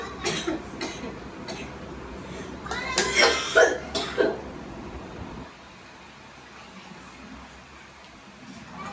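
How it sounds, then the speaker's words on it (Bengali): A person with a lingering cold coughs several times close up, a cluster of harsh coughs and throat clearing mid-stretch, followed by quieter background hum. "এই কাশি নিয়ে যদি আমি যাই"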